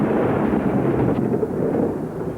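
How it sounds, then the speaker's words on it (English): Low rumble of a thunderstorm over Adelaide's northern outskirts on a night of hail, a steady broad roar with no distinct crack, loud and continuous throughout. "last night's storm was a spectacular sky show"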